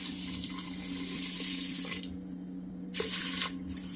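Water pours steadily from a tap onto sugar in a pan to start the syrup for gulab jamun, a continuous close splashing stream that briefly stops and then resumes.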